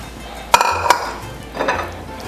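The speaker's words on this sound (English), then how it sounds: "And just give it a good stir." Stirring lasagna soup in a cooking pot, with two sharp clinks of a utensil against the pot wall followed by softer scraping and stirring, close and moderately loud.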